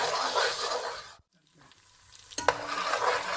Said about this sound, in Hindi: एक प्याज को हमने ग्राइंड कर लिया है, अब ये इसमें चली जाएगी। इसे हम लाइट ब्राउन करेंगे